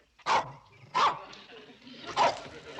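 Dog barks sharply four times in a close, loud, evenly spaced burst, with no talk over the barking.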